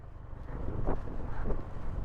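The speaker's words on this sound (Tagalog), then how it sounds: "Kaso medyo malakas yung hangin." Strong wind buffets the microphone in a low, rumbling roar that gusts and swells throughout, in Aurora province, Philippines.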